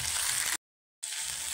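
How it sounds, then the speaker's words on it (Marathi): Okra (bhindi) fries in a pan with crackled cumin seeds for a quick bhendi bhaji. The loud, hissing sizzle is cut by a sudden half-second of total silence, then resumes just as strongly. "आता लगेच याच्यामध्ये भेंडी टाकून घ्यायची आहे। भेंडी परतवायची थोडी,"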